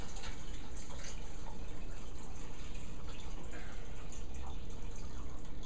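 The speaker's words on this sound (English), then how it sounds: "I'm going to pour this into this strainer" Warm liquid from leftover pork ribs pours steadily into a strainer, a continuous, fairly even wash of splashing and trickling that runs unbroken for several seconds, with no voices.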